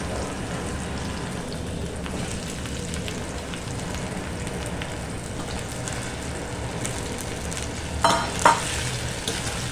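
Tomatoes added to a pan for a traditional Bhogi vegetable dish fry with a steady, moderate sizzle and crackle, joined near the end by a couple of sharp stirring clinks.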